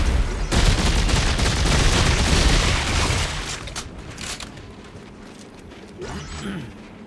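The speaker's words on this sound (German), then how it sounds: "ich hab schon wieder 600 Schuss verballert" Rapid bursts of gunfire from the video game Dead Space 3, a dense loud fusillade with mechanical clatter for about three seconds, then fading into scattered shots and creaks.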